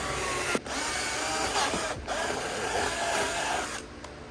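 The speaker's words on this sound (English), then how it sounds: "let's go ahead and bring the drill out." A power drill bores a hole into a Champion 204DCX boat while a dual console is being cut out. It gives a steady, close whirring grind with a few brief dips in pitch.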